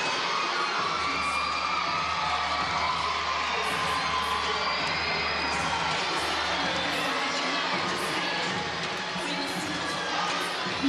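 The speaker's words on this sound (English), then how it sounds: "Never quite heard the crowd this boisterous before here at Lloyd Noble." A boisterous arena crowd at a women's college gymnastics regional meet roars continuously with cheers, whoops and children's shouts, loud and sustained, easing slightly near the end.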